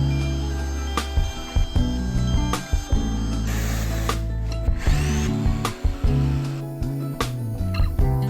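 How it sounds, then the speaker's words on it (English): A jigsaw cuts a freehand curve in a wooden board for an entryway cabinet. Close, loud buzzing is broken by repeated sharp knocks and stops as the blade works through the wood. "I'm gonna freehand the curve with a jigsaw"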